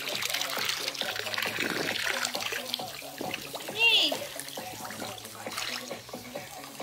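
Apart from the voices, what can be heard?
very cold water running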